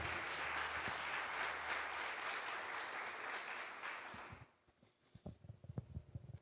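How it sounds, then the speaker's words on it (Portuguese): A church congregation claps steadily and loudly for about four seconds, then the applause drops away, leaving scattered knocks and rustles. "Você pode aplaudir Jesus"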